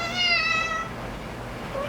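A cat gives a single clear, drawn-out meow up close, followed by quieter room noise and a faint short squeak.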